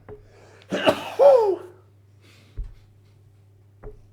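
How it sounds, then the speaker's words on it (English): One sharp, close sneeze bursts out with a voiced trailing tail, followed by a couple of soft thumps in a quiet room. "I think I'm going to sneeze."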